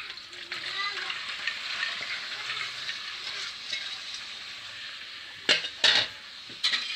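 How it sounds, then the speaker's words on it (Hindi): Mixed vegetables frying and being stirred in oil inside a pressure cooker, a steady close sizzle throughout with a few sharp clanks of a spoon against the pot near the end. "इसे भी मसाला सब्जियों को भी अच्छे से भून लेती हूँ।"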